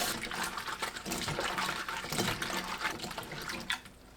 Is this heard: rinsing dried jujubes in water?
yes